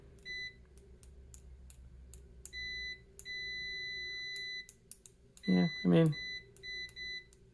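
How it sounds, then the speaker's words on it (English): Several short electronic beeps from a multimeter's continuity tester probing an automotive instrument cluster, sounding in brief steady tones spread through the clip, with someone speaking briefly near the end. "Let's check the continuity on this thing. Okay, so here's the beeps."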